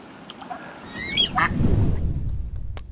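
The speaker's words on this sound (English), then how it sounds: "we might see a goose trying to protect a duck and her eggs" A goose gives a few nasal honks alongside duck-like calls, set against a low rumbling background, short and moderately close.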